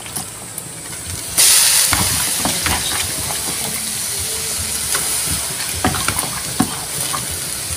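Vegetables hit a hot pan of frying pancit canton with a sudden loud hiss, then a steady sizzle continues under scattered clacks and scrapes of stirring.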